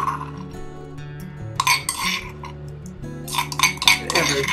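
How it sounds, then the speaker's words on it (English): Tomato stew with onion spooned from a pot into two bowls, with ceramic clinks and metal scraping against the dishes in irregular bursts, close and fairly loud. "So I'm just going to spoon it into two bowls."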